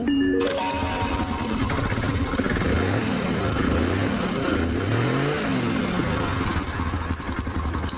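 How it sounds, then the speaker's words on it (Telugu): A Hero HF Deluxe motorcycle engine with a worn timing chain runs steadily at close range, a continuous mid-pitched drone with brief revving swells and a rattling undertone, no talk. "మనకి ఇంజన్లో కూడా నాయిస్ వస్తుంది చూపిస్తా సార్ బండి స్టార్ట్ చేసి"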